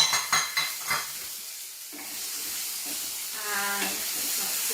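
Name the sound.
chickpeas and peas sizzling in a pan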